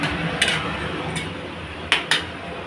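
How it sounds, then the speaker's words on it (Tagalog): A few sharp dish clinks while chicken curry is moved into a container, two close together near the end, over a steady low kitchen hum. "ngayon, silipat ko na sa lalagyan yung chicken curry"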